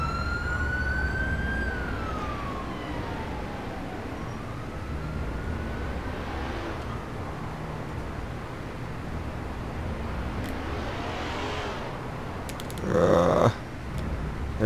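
An ambulance siren in the video game GTA IV wails up and down at a distance, fading in and out over steady background rumble, with a brief louder burst near the end.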